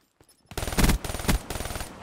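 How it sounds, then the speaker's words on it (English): The 48 Dredge 6-round burst light machine gun firing in Black Ops 3: after a faint click, three loud, close bursts of rapid shots in quick succession, each a tight cluster of punchy reports. "This is the 48 Dredge 6-round auto burst LMG, and it is an absolute beast."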